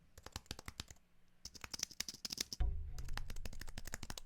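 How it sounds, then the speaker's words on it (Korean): Rapid clicking of keys on a computer keyboard, typed in quick bursts with a short pause and a low thump partway through, close and fairly loud with no voices. "이런 키보드 소리"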